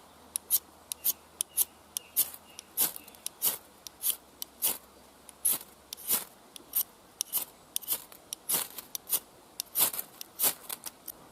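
Short sharp scrapes repeated in an uneven rhythm as a blade strips the paint coating from a ferro rod, with a Light My Fire scraper also in use; each stroke is crisp and close, with no talk.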